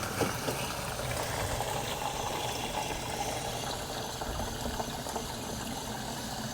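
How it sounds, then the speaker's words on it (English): Water pours into a 2-gallon container for mixing plant fertilizer, a steady rushing fill that runs continuously and fairly close. "And just add water."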